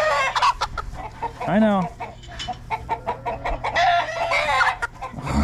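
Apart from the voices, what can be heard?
chicken clucking while being freed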